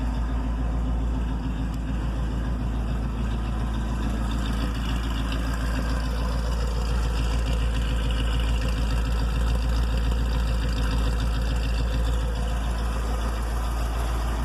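A Holley 4180C-carbureted engine running with its exhaust unmounted idles loudly and steadily with a deep, rough rumble and a constant drone that does not change.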